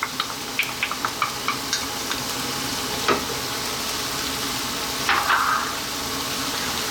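Cream is stirred into cooked spinach in a pan over fairly lively heat, giving a constant soft sizzling hiss with a few light taps of the utensil early on and brief scraping swishes as it is mixed; close, with no talking.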